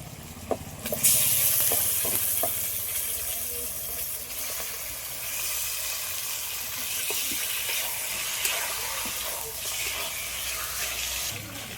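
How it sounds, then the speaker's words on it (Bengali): Chicken sautés in spice paste with a steady hissing sizzle, accompanied by occasional clicks and knocks of stirring, fairly close and continuous. "দু মিনিট মতো মাংসটা ভালো করে একটু কষিয়ে নিয়েছি"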